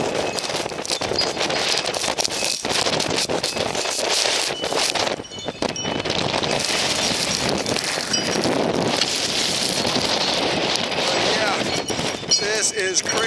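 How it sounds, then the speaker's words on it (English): Heavy wind buffets a microphone outdoors in a March winter snowstorm, a loud continuous roar and rumble that fills the clip with brief lulls. "And I know the wind noise is probably killing y'all."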